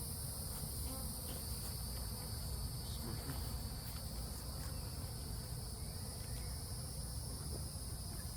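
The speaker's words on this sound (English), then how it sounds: "There's a lot of buzzing going on," Continuous insect buzzing fills the air around an opened honeybee hive on a very hot day, a dense steady drone with a high shrill layer, moderately loud and unbroken throughout.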